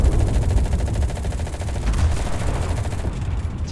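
Machine gun on a Pz. 38(t) F tank in the game Enlisted, firing a continuous rapid rattling stream, loud and close throughout, with no voices.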